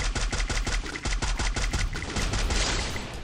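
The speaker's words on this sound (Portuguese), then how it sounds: "Dei um tiro." Rapid bursts of gunfire from a video game, a fast string of sharp shots repeating steadily for a few seconds, loud and close.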